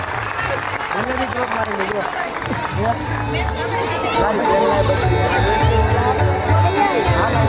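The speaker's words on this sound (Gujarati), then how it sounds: "વન્સ અગેન આ બચ્ચાઓ માટે જોરદાર તાળીઓ થઈ જાય" Applause and cheering from a crowd of parents honouring small nursery children at a kids' school prize and medal ceremony, steady dense clapping with crowd chatter throughout, loud and continuous.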